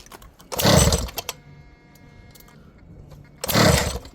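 An ALX 71cc engine, low on fuel, gives two loud sputtering bursts as it is pulled over, with a faint rattling idle-like hum between them.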